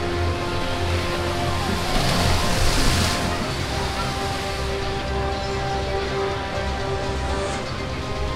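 A rider plunges down an extreme water slide at the Costa Caribe aquatic park in PortAventura, with a burst of rushing, splashing water that swells around the second to third second over steady loud water noise throughout.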